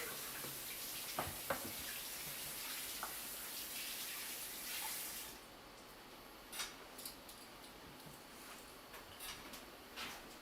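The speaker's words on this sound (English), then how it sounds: "Just give a quick wash to my hands here." Hands washed under a running tap at a street-food cooking station, a steady hiss of flowing water for about five seconds, then quieter with a few small splashes and clinks.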